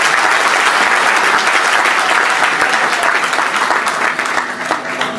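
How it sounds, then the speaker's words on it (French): A large audience at a business talk bursts into dense, sustained applause, loud and steady for several seconds before thinning slightly toward the end, with no speech over it. "Applaudissez pour vous."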